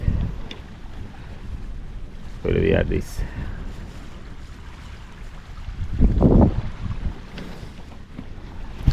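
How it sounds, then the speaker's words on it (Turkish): Strong wind buffets the microphone in a steady roar, with gusty bursts rising now and then. Someone speaks briefly over it. "Şimdi rüzgarın hafiflemesini bekliyorum."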